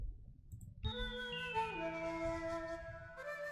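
A cascading bell loop layered with flute plays as a trap-style melody, sustained tones stepping downward in a steady repeating line after a brief low intro, loud and alone with no talking.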